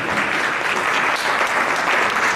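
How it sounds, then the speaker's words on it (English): Loud, steady applause from an audience at a university retirement ceremony, honoring the Vice Chancellor, a dense continuous clatter of clapping hands filling the room without pause. "Please, a round of applause for the Vice Chancellor."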